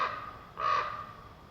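A single crow caws once, a harsh drawn-out call standing out over quiet background hiss.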